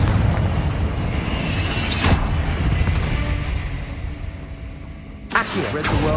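A Confringo blasting spell bursts in Hogwarts Legacy during a spider fight, sending out loud, dense explosive booms that rumble continuously, with a sharper blast near the end and a voice speaking among the noise.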